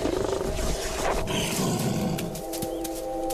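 A roar from a two-metre Bengal tiger, deep and loud, rolling out alone for a few seconds before trailing into lower growling.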